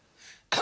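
A person imitates a boyfriend's cough with one short, sharp, close cough after a faint breathy lead-in.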